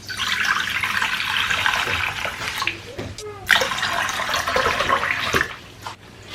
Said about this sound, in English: Then I'll add 2 cups of water.